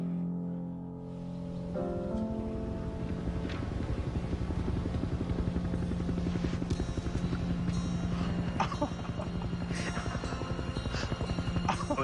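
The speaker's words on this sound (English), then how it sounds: "we heard the choppers" Rescue helicopters flying overhead, a steady, continuous rotor drone with a pulsing low throb that holds at an even, fairly loud level throughout after a quieter opening second.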